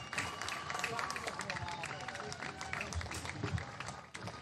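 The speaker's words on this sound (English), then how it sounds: "How about a nice round of applause for Nathan Spees?" A crowd at a high school women's varsity soccer game applauds Officer Nathan Spees, steady dense clapping and cheering sustained throughout with crowd noise mixed in.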